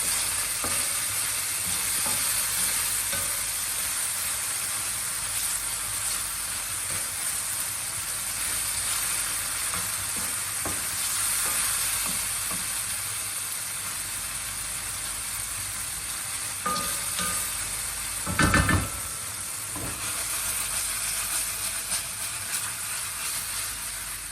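Anchovies fry and melt in a pan for a one-pan pasta, giving a steady, dense sizzle that holds throughout, with a few faint clinks and a brief louder scrape near the end.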